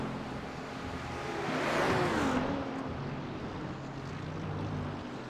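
Race cars, including an Audi, in the iRacing endurance race at Watkins Glen, with engine drones swelling as they close in around the two-second mark, then settling into a steady mid-distance hum.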